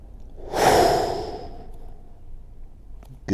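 A deep, drawn-out breath during a home golf fitness workout, one long airy exhale swelling then fading, close and alone, with a faint second breath starting at the end.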